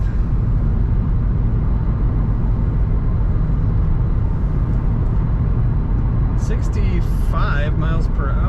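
A 2006 Pontiac GTO cruising in sixth gear at highway speed, a steady low engine drone and road rumble throughout, with brief higher tonal chirps near the end.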